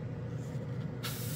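A Harbor Freight Avanti airbrush spraying paint gives a steady, close airy hiss that runs throughout, growing brighter and sharper near the end.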